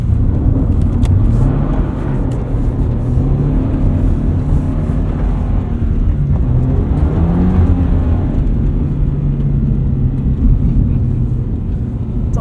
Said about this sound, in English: It's always good for a handbrake turn